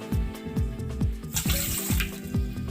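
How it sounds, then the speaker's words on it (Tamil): Water poured into a pot to make sugar syrup for bread gulab jamun, a steady splashing stream with regular gurgling pulses that runs throughout, close and fairly loud. "இதே கப் அளவில் 1/2 கப் அளவுக்கு தண்ணி சேர்த்துக்கலாங்க."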